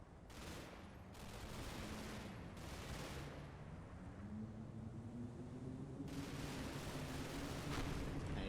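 Massed machine guns firing in the war strategy game Combat Mission, a dense, continuous rattle of gunfire with bursts swelling and overlapping, fairly loud throughout.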